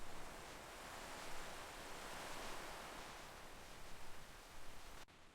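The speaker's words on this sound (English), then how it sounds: "Inside the cave, the sound of waves echoes against the rock walls." A faint, steady wash of waves echoing against the rock walls inside a sea cave, a soft continuous rushing hiss with gentle swells and no voices.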